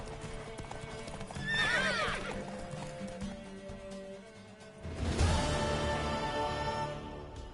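A horse whinnies loudly twice amid steady clopping hooves and rustling movement, fairly close, with no speech, in a video game.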